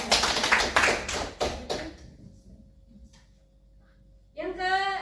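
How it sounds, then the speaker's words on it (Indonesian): A group of people in a classroom session clap hands in a brief, loud burst of quick claps that stops suddenly, followed by near silence and then a voice speaking. "Tepuk tangan."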